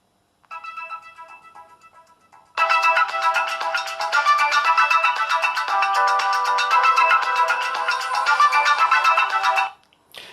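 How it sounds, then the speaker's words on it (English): A Samsung Night Effect phone ringtone plays loud and close, a short quieter melodic phrase first, then a sustained bright, busy repeating chime pattern lasting about seven seconds before stopping abruptly. "these are especially apparent when the phone is ringing"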